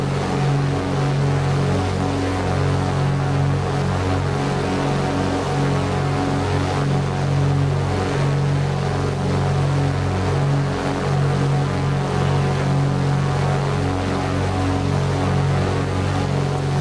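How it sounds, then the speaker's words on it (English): Twin piston engines of a Beechcraft Baron 58 in the flight simulator X-Plane 11 drone with a steady, loud low hum and layered harmonics, continuous and unchanging throughout with no talking. "The engine noise on the Baron 58 is one of them."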